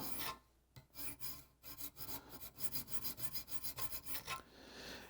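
A knife edge is gently rubbed on a Wicked Edge sharpener, giving a rapid run of close, rasping strokes in a steady back-and-forth rhythm with no voices.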